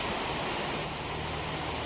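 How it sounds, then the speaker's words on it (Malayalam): Dense, continuous roar of heavy rain falling, a loud unbroken wash of noise with no voices. "ഇവിടെ നല്ലൊരു മഴയാണ്, പെരുമഴ"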